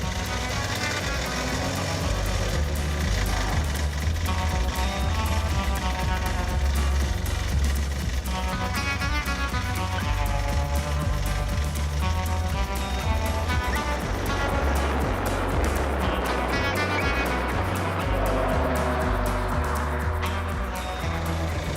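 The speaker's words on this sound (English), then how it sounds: "That is a lot of load on this poor motor" An AMC Pacer's engine strains under heavy load while climbing off road, a loud, continuous low droning growl that surges and sags, with rumbling and rattling from the vehicle running throughout.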